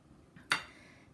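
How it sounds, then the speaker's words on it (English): A spoon stirs sausage and vegetable stew in a Ninja Foodi pot, giving one sharp, faint clink against the pot amid quiet kitchen background. "I'm going to give that a stir."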